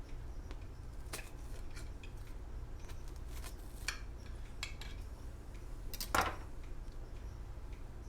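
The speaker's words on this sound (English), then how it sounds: "On the bottom side, it has a nice crust on it, and just, let's see if you can hear this when I cut it." A knife sawing through crusty cornbread made from fresh-ground corn: quiet crackly crunches and a few sharp scrapes, one louder crisp crunch near the end, close over a low hum.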